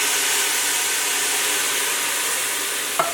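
Sweet potatoes cook in a pan as a can of diced tomatoes is added, giving a steady, close sizzle and hiss with a single soft clunk near the end.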